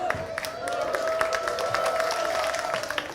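A live audience claps during a church sermon, a short burst of scattered applause under a steady tonal hum, moderately loud and fairly close.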